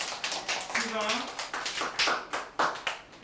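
A short burst of hand clapping from a small group at a school start-of-year event, quick and uneven, with a voice speaking over it.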